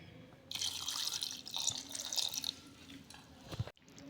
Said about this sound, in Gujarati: આશરે 3 ગ્લાસ જેટલું પાણી રેડીશું.